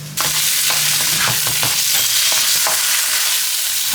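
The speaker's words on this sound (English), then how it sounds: "I'm just stirring." Food being stirred in a pan over high heat makes a loud, dense sizzle, with the spoon scraping and clacking through it in quick, irregular strokes, close up.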